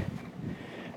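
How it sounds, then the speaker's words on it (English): Low, buffeting wind rumble against a microphone outdoors at a marina, steady and fairly loud throughout with no other clear sounds. "sorry about the noise, the wind"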